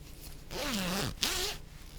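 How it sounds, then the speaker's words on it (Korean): A zipper on a black bag is pulled open in two strokes, a long rasping run followed by a short pause and a second, shorter pull, close and fairly loud with no one speaking. "검은색 가방 지퍼가 열리고"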